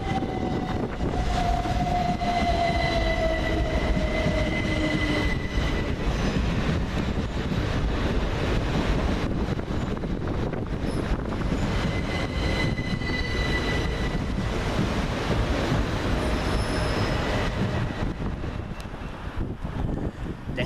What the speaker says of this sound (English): Next into the station is 377 160 and 377 118, working the 1614 Southern Railway service from London Victoria to Southampton Central